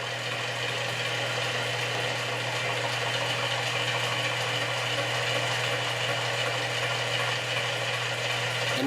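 Electric motor running steadily on about 120 volts during a power-draw demonstration, a constant mechanical whir and hum with no change in tone, close and fairly loud, with no talking.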